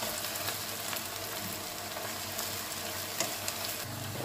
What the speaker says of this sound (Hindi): लहसुन अदरक को हमने अच्छे से भून लिया।